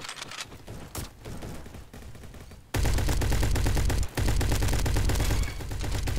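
Rapid gunfire from a Roblox shooter game played on a gaming laptop: scattered shots at first, then a loud, dense burst of automatic fire that runs almost continuously with one brief gap.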